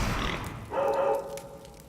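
BowWow, the chained dog creature in the 2019 Link's Awakening game, barks and growls in close, loud bursts, a low rough growl followed by a sharper bark, with no talking.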